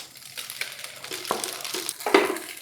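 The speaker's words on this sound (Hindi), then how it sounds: "मैंने ऊपर से ही 1 टेबलस्पून ऑयल इसके ऊपर डाल के चम्मच से मिक्स कर दिया" Boiled penne pasta being stirred with a spoon in a cooking pot after a tablespoon of oil is added, with soft wet scraping and a few light clinks of the spoon against the pot.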